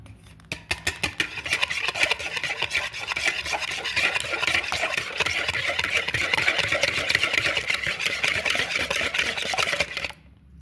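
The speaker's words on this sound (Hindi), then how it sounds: "हमने इस तरह से इन्हें मिक्स कर लेना है तो ये बिल्कुल मिक्स हो जाए।" Two cracked eggs are beaten in a bowl for chocolate cake batter, producing a fast, steady rhythmic whisking and scraping that runs close and continuous for about ten seconds before stopping abruptly.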